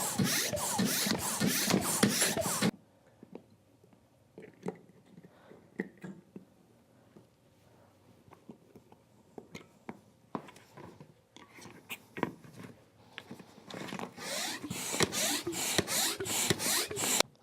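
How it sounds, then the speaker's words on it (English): A hand pump inflates the chambers of a Hobie inflatable kayak with rapid, rhythmic whooshing strokes at the start. After a quieter stretch of faint rubbing and clicks, the strokes pick up again toward the end. "Put the pump on there and pump away."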